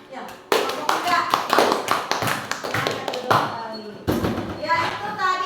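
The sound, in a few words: children applauding in a classroom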